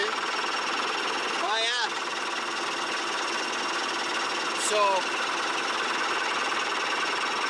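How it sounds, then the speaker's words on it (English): An old CAT D7E bulldozer, about fifty years old, runs with a steady loud engine drone throughout, brief voices breaking in twice over the constant rumble. "check the engine running. See?"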